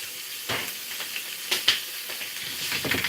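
Vegan chorizo and potatoes sizzling in a pan while being stirred, a steady hiss of frying broken by a few sharp scraping strokes of the spoon, close up with no talk.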